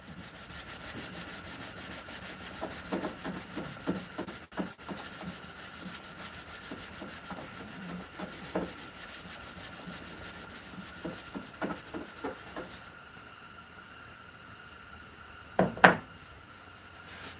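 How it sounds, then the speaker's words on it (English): A youth-sized hunting knife blade being hand sanded with 220 grit sandpaper: steady, close back-and-forth rasping strokes in an irregular rhythm, ending with a brief louder scrape. "I want you to put 220 grit scratches in that blade."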